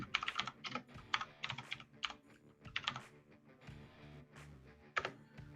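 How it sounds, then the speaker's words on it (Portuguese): Quick, uneven keystrokes clatter on a computer keyboard as a name is typed into a chat, clicking in short bursts at moderate volume with no one speaking. "vou digitar o nome dele aqui no chat aqui"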